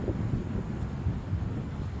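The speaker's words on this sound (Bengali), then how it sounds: "খুব হাওয়া দিচ্ছে" Steady wind buffeting the microphone on the shore of Sun Moon Lake, Taiwan, a continuous low rumbling roar with no pauses.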